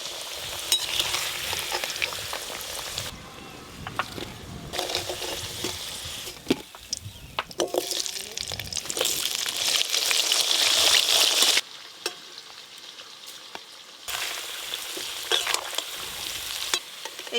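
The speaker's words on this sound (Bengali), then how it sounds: "আলুগুলো পুরো লাল লাল করে ভেজে নিয়েছি" Potatoes frying in oil in a pan for aloo dum give a continuous close sizzle with occasional stirring clatter. The frying fades and returns in several bursts.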